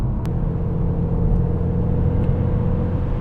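Mk2 SEAT Leon Cupra hot hatch driving, a steady low engine and road rumble heard from inside the cabin, continuous and fairly loud, no voices.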